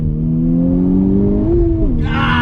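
A 2020 Honda Civic Type R engine drones steadily under throttle in first gear, its pitch climbing as the car accelerates hard, loud and close, with a sharper rasp joining near the end.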